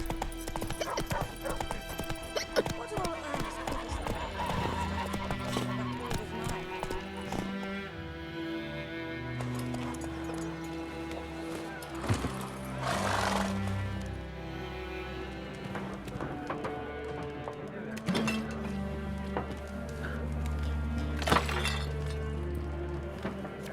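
Hooves of Geralt's horse Roach beat in a fast galloping rhythm in The Witcher 3, layered with music and occasional crashes and bumps, running steadily throughout.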